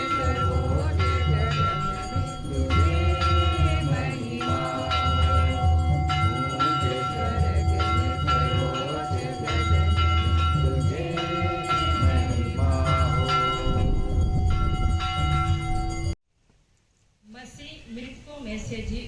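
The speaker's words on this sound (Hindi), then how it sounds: "गुड फ्राइडे के बाद आज चर्च की घंटियाँ बजती हैं।" Church bells ring on Easter at St. Peter's Catholic Church in Manendragarh, a loud sustained clangor that fills most of the stretch, with voices mixed in, before cutting off abruptly near the end.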